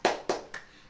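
A classroom of children performs a rhythmic spirit clap during a lesson, three quick sharp clap bursts in a row, the last one softer, close by with no talking.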